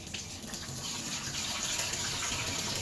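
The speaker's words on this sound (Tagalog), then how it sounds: "Diretso na hugasan." Water runs steadily from a tap during washing at home breakfast preparation, a constant close splashing gush lasting a few seconds with no pauses.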